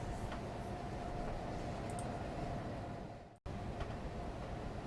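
A train shoving a cut of coal hopper cars through Monson Yard on the SSW Coxton Sub during switching, heard as a faint, distant, steady rumble with a short gap near the end.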